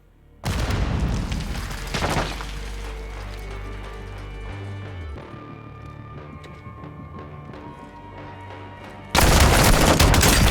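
A grenade explodes in the video game Modern Warfare 2 Remake: a loud booming blast with gunfire, fading into a lingering rumble and ringing, then another loud burst of explosive noise at the end.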